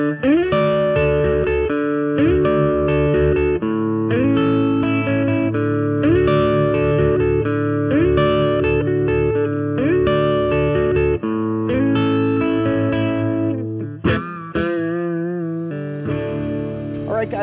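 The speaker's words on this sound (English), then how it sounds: "I can kick this distortion pedal on" An electric guitar played through a distortion pedal strums a chord riff, loud and continuous with repeated rhythmic chord changes, ending in a brief flourish.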